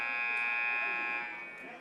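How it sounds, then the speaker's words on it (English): A basketball timeout warning buzzer at a high school game sounds as one long, steady electronic tone that fades slightly toward the end, with crowd noise behind it. "We just heard the warning buzzer there."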